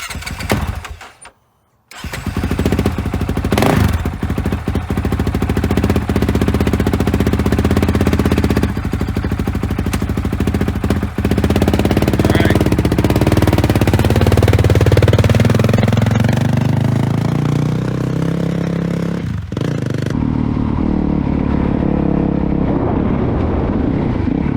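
A Honda CRF450L motorcycle fitted with a 19hp mod kit is ridden, its engine droning loud and steady with rising and falling revs after a brief drop to near silence early on.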